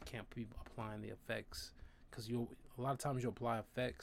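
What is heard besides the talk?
None of the usual background noises is heard.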